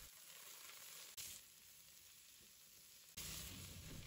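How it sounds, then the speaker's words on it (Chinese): Garlic, ginger, green and red peppers and celery stir-fried in a wok over high heat give a steady close sizzle, with two louder hissing surges as the ingredients are tossed. "再把青红椒也加进来，西芹也加进来，开大火快速的翻炒"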